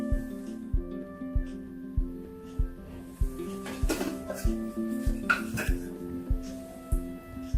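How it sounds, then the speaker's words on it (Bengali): Herbal powders such as amla, haritaki and bahera stirred together in a dish, a spoon scraping and clinking against it in a steady rhythm of roughly two strokes per second, close and clear with no talk. "তাহলে এগুলো আমরা মিশ্রণ করছি।"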